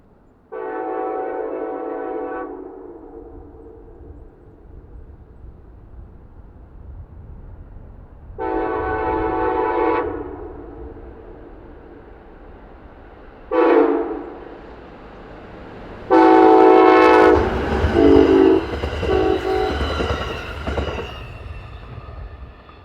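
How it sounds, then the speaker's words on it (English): Amtrak Train 371 sounds its horn on a snow-covered CSX line at Porter Junction during a lake-effect snowfall: three long blasts and one short one, with the final long blast ringing over rumbling wheels as the train passes close by. "A fresh round of lake-effect snow has been falling overnight, leaving the rails covered in snow for Amtrak Train 371."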